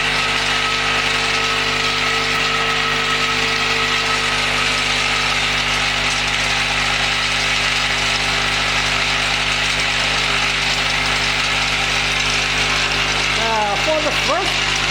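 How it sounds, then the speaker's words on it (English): The cutter motor of a wood dowel double-end chamfer machine runs as a loud, steady mechanical drone with a constant tonal hum, unbroken for the whole stretch, with a brief voice near the end. "This is the cutter motor."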